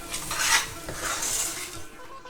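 A spoon stirs fried cashews and raisins into Annavaram-style prasadam in a metal pot, with steady scraping and clinking close by and no voices.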